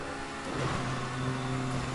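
A car engine revs under throttle during a GTA 5 race, a steady mid-pitched drone that climbs and holds, loud and close, with no talking.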